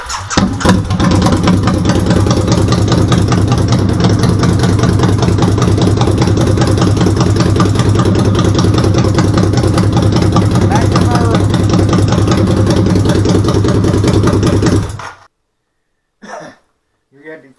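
A motorcycle engine idles loudly and steadily close by for about fifteen seconds, then cuts off into near silence with a couple of brief faint sounds afterward.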